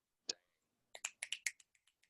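A single crisp finger snap, then after a pause a quick run of six or seven snaps that fade to fainter clicks, quiet and close with no talk.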